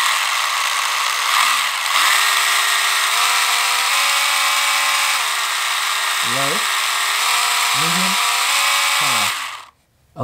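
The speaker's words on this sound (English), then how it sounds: "We're gonna hit the throttle and we're gonna mess with the speed." Power Craze Drifter+ electric motor whining under throttle, its pitch stepping up and down as the speed setting changes, heard over constant loud noise while someone talks.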